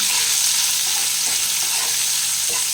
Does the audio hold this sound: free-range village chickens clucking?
no